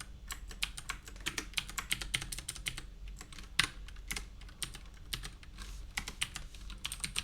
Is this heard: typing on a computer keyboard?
yes